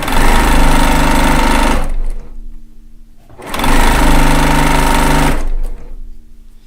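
A heavy-duty sewing machine with a powerful motor runs in two loud, close bursts of rapid stitching, separated by a short quiet pause, the second burst tailing off.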